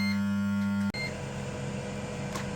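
A sustained electronic beep from a Ninja Foodi multi-cooker air fryer holds steady, then cuts off abruptly, leaving quiet room hum with no one speaking.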